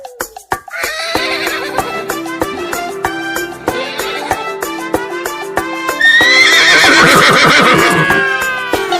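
A horse whinnies loudly and clearly near the start, then clip-clop hooves and bright music carry a children's rhyme about a prancing, colourful horse, with sung voices joining.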